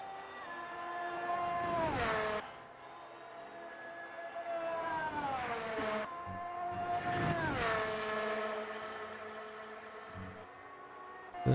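Formula 1 car engine in a racing video game at Spa-Francorchamps, revving hard through rising harmonic whines and dropping pitch at each gear shift, several loud upshifts in succession.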